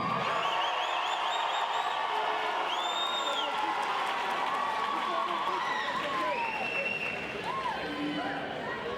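A large crowd at a fight event applauds and cheers loudly and continuously, with scattered whoops and shouts rising over the clapping.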